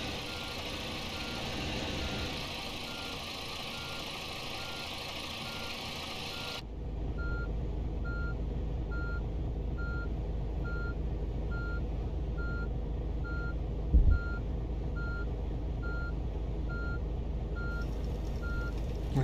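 Tour bus in the game Tourist Bus Simulator reversing, its backup alarm beeping in an even, regular series over a low idling engine drone, clear and continuous, with a brief bump near the end.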